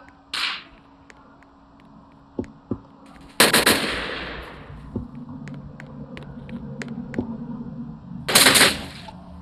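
Uzi submachine gun fire in a video game: short bursts of sharp shots come at irregular moments over a low hum, with two loud, dense bursts standing out against quieter clicks and thuds.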